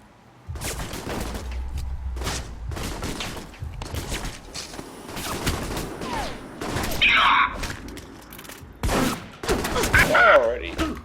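Gunfire in the Alpha Protocol video game: a series of sharp, loud shots spaced irregularly over several seconds, some in quick pairs, with game sounds and a voice talking in between.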